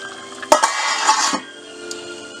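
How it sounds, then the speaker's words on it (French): A casserole of chicken thighs simmering with soft bubbling, broken by a few sharp clinks and scrapes of a utensil stirring against the pan, close by. "Ça mijote."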